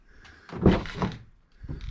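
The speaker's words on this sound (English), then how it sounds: "open a door" A car door on a vehicle fitted with an ARB Ascent canopy is opened and shut, giving a couple of close, solid thunks with a short gap before a further knock.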